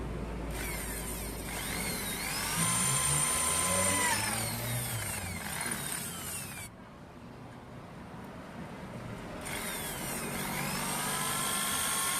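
A power drill whirs and whines while drilling three holes, with shifting pitch, briefly easing off before spinning up again, loud and close.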